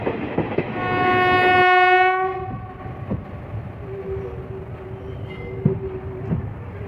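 Mettur Dam Express passenger train running on tracks as it switches from the main line onto a loop track near the station, with a loud sustained horn blast followed by steady rumbling wheels and occasional track clunks.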